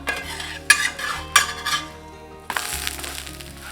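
A spatula scrapes and clatters on a hot pan as a sprouted green gram dosa is flipped, with a few sharp metallic knocks and a soft sizzle starting after the turn, no voices.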